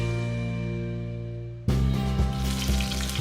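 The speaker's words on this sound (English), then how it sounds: "Just gonna sear all sides of my beef ribs, creating a nice little crispy layer." Loud sizzling erupts as flour-coated beef short ribs hit hot oil in a pot, continuing as a close, crackling sear.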